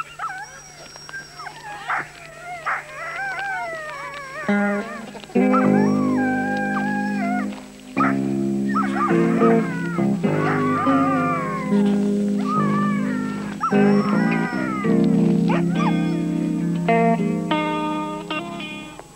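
A chorus of sled dogs howling and yowling together, many overlapping voices rising and falling in long wavering cries, loud and close.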